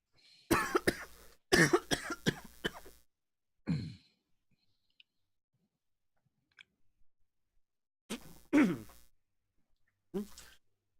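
A tabletop role-playing player at a Pathfinder playtest session gives a few sharp, breathy coughs in short bursts, with pauses of near silence between them and a couple of fainter coughs later on.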